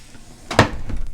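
Makeup storage drawer pulled open, giving a single short sliding thud with a lighter knock just after, close and clear with no talking.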